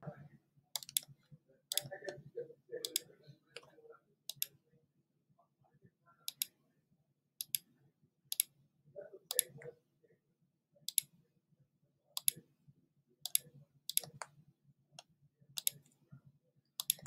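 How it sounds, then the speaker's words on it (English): Sharp, dry computer mouse button clicks come one at a time at irregular intervals, mostly single with occasional quick pairs, close and fairly quiet over a low background hum, with some soft rustling early on. "I'm clicking my mouse"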